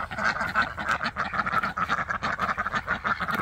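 Farm ducks quack continuously and close by in a busy, overlapping chorus of rhythmic nasal calls, loud and steady with no talking over them.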